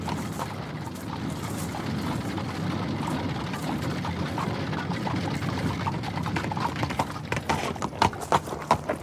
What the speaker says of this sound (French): Si, un cheval.